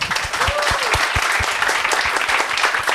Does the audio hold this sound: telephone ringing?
no